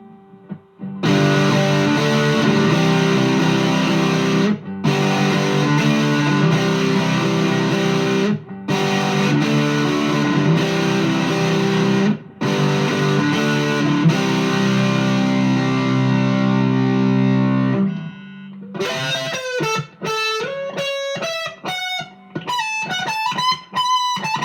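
Electric guitar played on the neck pickup through a JHS Violet Lari Basilio overdrive pedal: loud, sustained distorted chords in repeated phrases with short gaps, then a brighter run of picked single notes, heard alone without talk.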